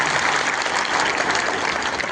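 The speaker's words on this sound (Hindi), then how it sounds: "मैं सभी से चाहूँगा पुनः मैडम जी के स्वागत में जोरदार तालियां" Loud, steady applause fills a meeting hall as the audience of a village watchmen's (kotwar) employees' association conference claps continuously, with dense uninterrupted clapping and no talk over it.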